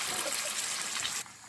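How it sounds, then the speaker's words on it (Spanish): Water poured into a pan of frying Cuban-style pork chunks, giving a steady hissing, trickling rush at moderate level that cuts off abruptly near the end. "para que vean en el punto que yo le pongo el agua"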